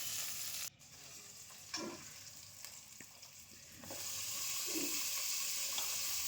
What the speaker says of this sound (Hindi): इनको हल्का सा फ्राई करने के बाद साथ ही में मूली के पत्ते डाल दें